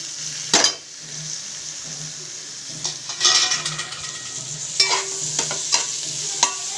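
Chopped tomatoes tossed into onions frying in a pan for Hyderabadi egg biryani, with a steady close sizzle under repeated scraping stirs and occasional utensil clinks against the pan.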